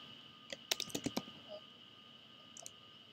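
Typing on a computer keyboard comes as a short burst of close, crisp key clicks, then a pause and a couple of lighter taps over a steady background hum.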